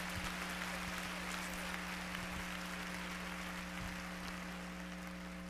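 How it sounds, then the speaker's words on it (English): Applause from a church audience on a missions night, a sustained dense wash of clapping over a steady electrical hum, with no break across the stretch. "Let's give him a big rousing applause."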